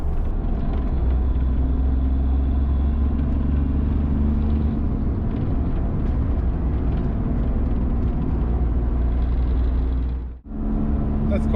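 A 1992 Daihatsu Charade with a 1-litre turbo diesel drives on an open country road, its low engine drone and road rumble steady and continuous from inside the cabin, with a brief dip near the end.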